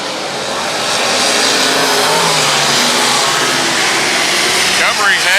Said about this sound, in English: we have got this B-Mod race underway